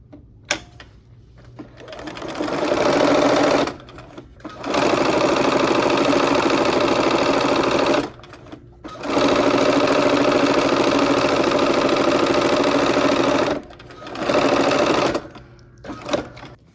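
A sewing machine stitching a quilt block seam runs in loud, close bursts of a few seconds each, a steady rapid mechanical whir separated by short quiet pauses.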